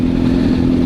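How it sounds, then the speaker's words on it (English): Steve's very loud vehicle exhaust at the Stonham show, a close, steady deep engine rumble droning throughout without a break. "Steve's exhaust is a little bit on the loud side"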